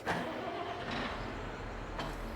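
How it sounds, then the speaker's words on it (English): A tractor engine in the Farming Simulator 22 game cranks and catches, a low rumbling motor with brief starter bursts, heard fairly faint and alone without talk. "use this tractor to do a little bit of windrowing"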